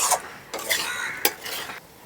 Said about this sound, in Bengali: এখন আলুর সঙ্গে পোস্তটাকে ভালো করে একটু কষিয়ে নেব